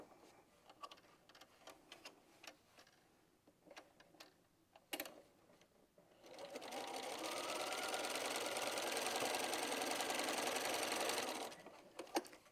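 A sewing machine stitches a freestyle-pieced quilt block, its steady fast mechanical whir running for about five seconds after some soft handling clicks and taps, then stopping.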